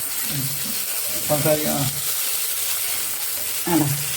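Mackerel frying on a banana leaf in a pan, a constant soft sizzle running throughout with brief voices talking over it at moments.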